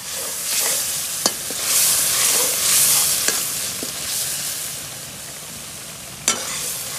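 Spices crackle and sizzle continuously in hot oil for a tadka for bongra karahi, close by, with a few sharp clinks of a utensil against the pan.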